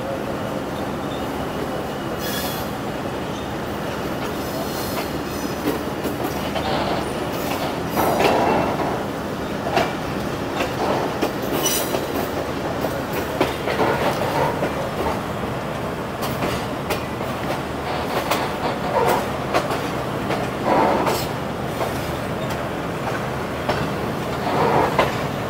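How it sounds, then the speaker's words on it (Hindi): The 13 Up Awam Express runs on the railway with a continuous rumbling roar. Clattering wheel beats and brief metallic squeals run through it for the whole stretch, with no clear speech. "अभी जो हमें ट्रेन गुजरखान पर नज़र आई थी वो 13 अप आवाम एक्सप्रेस थी"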